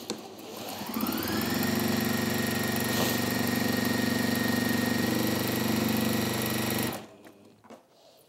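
Sewing machine stitching a zipper tote, a close, steady whirring hum that runs continuously for several seconds before stopping abruptly, followed by faint handling noises.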